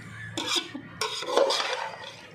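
Mixed vegetables for macaroni are stirred in a pan, with a spoon scraping and clattering against the metal in a few short bursts and a faint sizzle underneath, close up.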